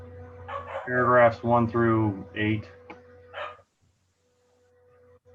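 A dog barks in the room during an architectural review board meeting, a few short, loud barks mixed in with a person speaking, then near-silence.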